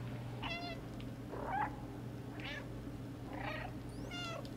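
A cat meows repeatedly in the video game Stray, several clear separate meows of varied pitch spread over a few seconds, over a steady low game hum with no speech.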